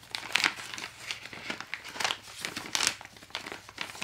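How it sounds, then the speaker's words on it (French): Packaging crinkles and rustles as a parcel is opened by hand, a series of close, irregular crackling bursts rising and falling. "Alors, hop, on va juste ouvrir ça."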